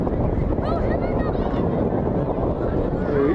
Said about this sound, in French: Alors il y a le vent qui souffle toujours